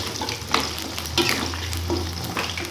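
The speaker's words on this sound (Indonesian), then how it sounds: "Goreng jengkolnya nggak usah lama-lama, soalnya kalau kelamaan nanti keras" Jengkol (dogfruit) frying in a pan while being stirred: a steady loud sizzle with a low hum beneath it and occasional scraping stir strokes, no talk.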